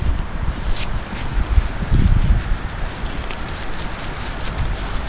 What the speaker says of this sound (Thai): จะได้ยินเสียงลมบ่